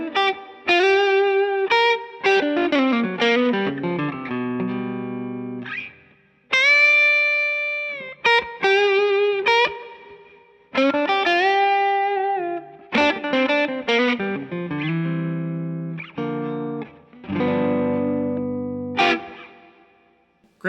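A hollow-body electric guitar played through its P90 bridge pickup with distortion and chorus, ringing out bursts of strummed chords and short riffs separated by brief pauses, loud and clear with no talking.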